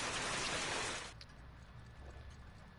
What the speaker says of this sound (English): That transition to the rain!